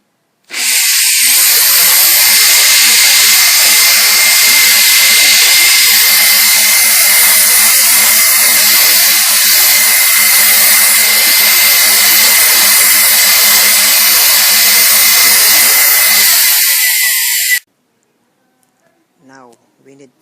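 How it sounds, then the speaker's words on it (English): A handheld computer blower blasts dust out of a computer during maintenance, a loud, steady airy hiss that runs unbroken for about sixteen seconds close up, then cuts off abruptly, leaving faint clicks. "we need to blow that dust here using this computer blower"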